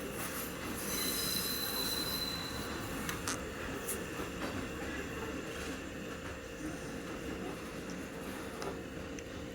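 A Thameslink electric train rolls along the rails into London Bridge station with metallic wheel squeals and steady rumble, loud and close, no talking.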